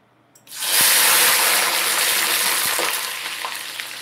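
Slightly melty fries hit hot frying oil with a sudden loud burst of sizzling and splattering that holds steady, then slowly eases over a few seconds, with no talking.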